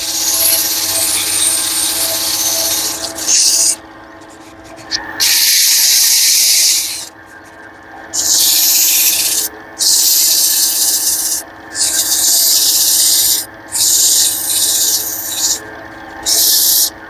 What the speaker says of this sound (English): So get my dust mask on and we'll do a little sanding.